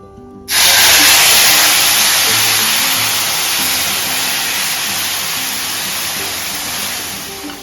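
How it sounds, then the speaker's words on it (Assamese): Water poured into semolina roasting in a pan for suji halwa with cloves and cardamom sets off a sudden loud, broad steamy sizzle that holds steady and slowly fades, with no talking. "এতিয়া আমি পানী দি সুজিখিনি এনেদৰে লৰাই থাকিম"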